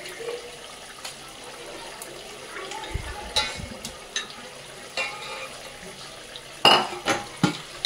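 Chicken with peas and coriander being mixed by hand in a pot, soft wet squelching and stirring with scattered metal clinks and knocks against the pot, fairly close and without talk.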